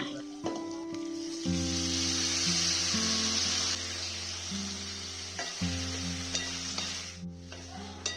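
Brinjal pieces frying in a pan for vangi bath, a soft continuous sizzle with occasional scraping stirs, largely masked by steady background music throughout.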